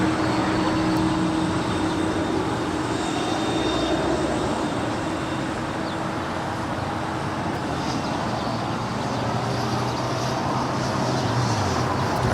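An Iberia Airbus A330-200 on its takeoff roll from runway 25 right at Los Angeles International Airport, a steady broadband engine roar that holds constant and loud throughout, with no voices.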